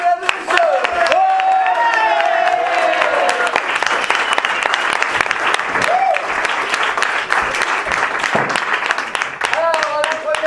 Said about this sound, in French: Je vous demande d'applaudir la première équipe ce soir pour vous, mesdames et messieurs.